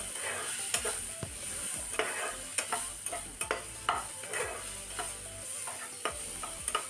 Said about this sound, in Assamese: লৰাই দিম